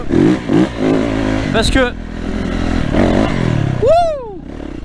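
A Yamaha YZ450F dirt bike engine revs in sharp bursts, one rising and falling climb standing out clearly, with someone talking over the engine noise.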